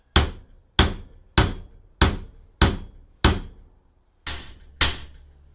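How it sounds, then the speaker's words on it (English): Eight sharp, dull thumps of a rubber mallet struck on a pipe of a 1974 Motobecane Mirage bicycle, evenly spaced with a brief pause before the last two, each ringing out briefly. "I'm going to sit this rubber mallet on top and hammer on it"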